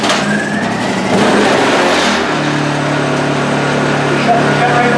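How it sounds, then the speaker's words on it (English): A Honda EU2000i portable inverter generator pulls over and catches, then settles into a steady mid-pitched running hum close by, with a person talking over the start. "I'll start it, and then I'll shut it off rather quickly so we don't kill ourselves with exhaust"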